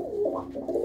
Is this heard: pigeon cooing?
yes